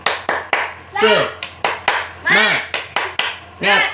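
Classroom children clap out a rhythmic spirit-clap pattern, sharp close hand claps in quick bursts, alternating with their voices chanting in unison between the claps.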